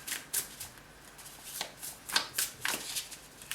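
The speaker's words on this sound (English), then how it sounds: "I'm gonna pull out some tarot here." A tarot deck is shuffled in several short, crisp riffles and slides, close up and separated by small gaps.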